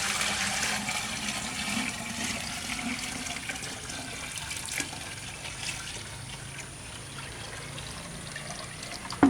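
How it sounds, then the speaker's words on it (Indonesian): A bucket of water poured into organic fertilizer for a vegetable garden, a steady gushing splash close by that slowly eases over several seconds, heard alone without talk. "kita tambahkan air 1 ember"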